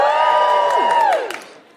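A live podcast audience cheers and whoops together in a single loud burst of shouts and whistles that swells, holds, then trails away quickly.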